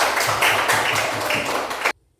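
Fifth-grade classroom applause in an Indonesian language lesson, with a group of children clapping steadily and fairly loudly in a rhythmic pattern for about two seconds before it cuts off sharply.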